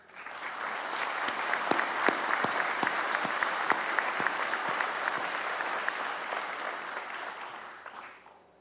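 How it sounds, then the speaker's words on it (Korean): Sustained applause from a large audience at a Korean National Police Day ceremony, dense clapping that swells quickly, holds steady for several seconds and then tapers off. "경찰 여러분의 헌신에 격려의 박수를 보냅니다."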